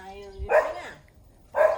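A lively dog gives two short, sharp barks outdoors at sunset, heard close and loud with a brief pause between them. Faint background sound sits underneath.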